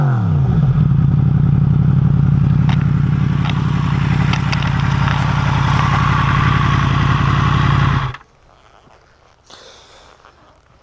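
A 2016 Yamaha MT-10 supernaked motorcycle fitted with an Akrapovic exhaust runs steadily and loudly at close range with a clattery idle for about eight seconds, then cuts off abruptly into near silence.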